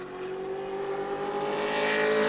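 The engine of Brad May's number 9 Pro Late Model race car roars on a qualifying lap at New Smyrna, growing steadily louder as it approaches, with no voices.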